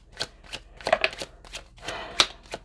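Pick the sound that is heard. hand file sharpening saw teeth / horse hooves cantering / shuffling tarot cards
shuffling tarot cards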